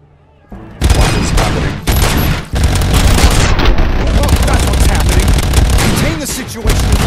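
Video game gunfire in RoboCop: Rogue City, loud dense bursts of rapid shots and impacts that start abruptly after a quiet moment and continue almost without pause, close and heavy.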